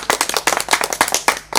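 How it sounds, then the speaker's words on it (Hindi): An audience at a Maithili folk performance claps in quick, irregular bursts for a troupe of performers, close, sharp and fairly loud handclaps with no speech. "एक बार उनका सबके लिए जोरदार झमकौआ ताली अपने सब बजा दियो"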